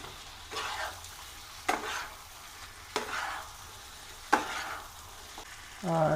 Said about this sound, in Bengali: কষানো কমপ্লিট, এবার দিয়ে দেবো ভেজে রাখা আলু।